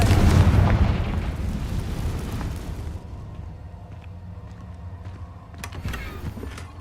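A Confringo blasting spell in Hogwarts Legacy explodes with a loud, deep boom right at the start, then rumbles and fades into quieter debris and ambient game sound.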